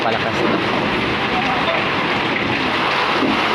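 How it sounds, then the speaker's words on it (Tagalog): Heavy typhoon rain pouring steadily with a dense, loud hiss, swelling slightly as gusts of wind push through, during Typhoon Rolly in Albay, Philippines. "palakas na ang ulan, pati ang bugso ng hangin palakas na."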